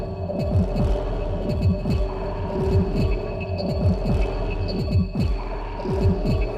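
A 4ms Tapographic Delay Eurorack module pulses synthesizer tones in a throbbing rhythm, each burst sweeping through a resonant bandpass filter over a steady low hum, with no voices.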